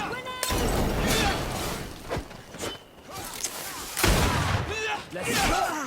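A grenade explodes in the video game Greedfall, its bursts and crashing impacts set amid a noisy combat mix, with a voice speaking over parts of it.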